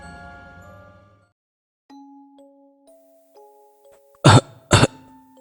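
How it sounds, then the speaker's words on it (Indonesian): Two loud, close coughs burst out in quick succession beside a house, following soft chime-like tones and a quiet lull. "mendengar suara batuk seseorang dari samping rumah"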